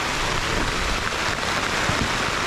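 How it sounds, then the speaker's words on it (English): Heavy rain pours down steadily at a homestead during a storm, a dense, continuous hiss of water falling on surfaces with no pauses and no voices. "Here comes the rain."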